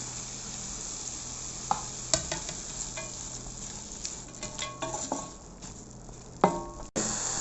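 Chicken stir-frying with onion, capsicum and carrot for glass noodles: a steady close sizzle with scattered scrapes and clinks of a utensil stirring in the pan, no voices.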